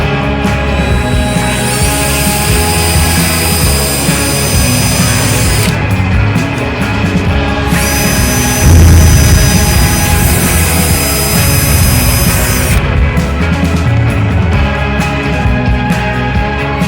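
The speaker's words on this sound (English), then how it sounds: "Just drilling a pilot hole." A power drill bores a pilot hole during a camper van build with extruded aluminum framing and a battery box, a loud steady whine running continuously with brief dips in pitch and a slight surge midway, no talking.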